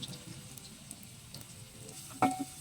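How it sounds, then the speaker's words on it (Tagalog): Soft sizzle of ginger and onion frying in a hot pan, with quiet stirring and one sharp clack of a utensil near the end. "dahil mainit na yung ating lutuan, ilagay natin yung luya para mas mabango"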